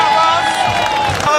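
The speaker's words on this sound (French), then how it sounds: "On applaudit la relève!" A live crowd at a decor and parade show in Basse-Terre cheers and claps loudly, a dense sustained roar of voices and applause filling the whole moment with no break.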